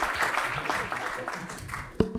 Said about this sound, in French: Je voudrais qu'on applaudisse Justine